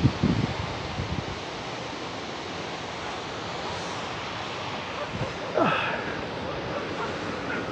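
Ocean waves breaking on a San Diego beach, a steady soft wash of surf with wind, fairly faint and distant, with a brief louder swell partway through.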